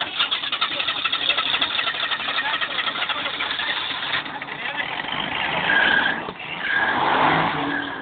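Car engine revving and accelerating hard, a steady loud roar that swells near the end, with people talking over it.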